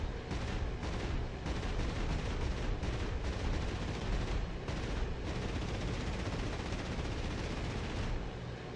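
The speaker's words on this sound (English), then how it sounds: "Let's line up for a gun run." Rapid, dense cannon and machine-gun fire from an FW190D fighter strafing a parked B-17 on the ground in the DCS World flight simulator, a loud continuous roar with brief gaps between bursts.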